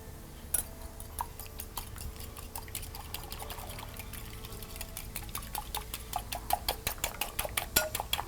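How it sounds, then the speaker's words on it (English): A whisk rattles against a pot as sauce with black pepper is stirred, a run of quick metallic clicks that grows steadier and louder toward the end, close and alone. "then give it a whisk."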